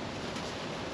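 Outdoor wind buffets the microphone in a constant, dense roar that covers the whole moment with no break and no speech.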